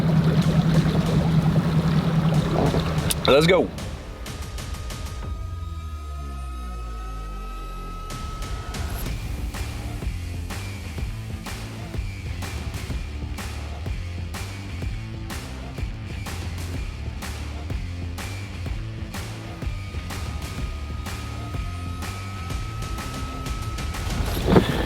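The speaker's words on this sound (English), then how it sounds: "we just went for a rip in the boat with the 24 pitch Fury 3-blade" The outboard motor of a 2023 Phoenix 21 PHX boat with a 24-pitch Fury three-blade propeller roars steadily as it speeds across water, with wind buffeting and splashing throughout; a voice speaks briefly at the start.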